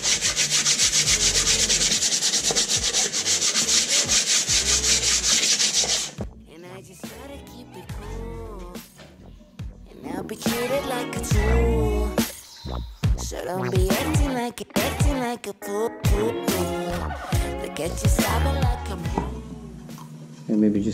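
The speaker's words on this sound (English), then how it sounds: "I can sand it this way." Oak board being hand sanded, rough scratchy strokes that start loud and continuous, then turn shorter and intermittent while a person talks over the work.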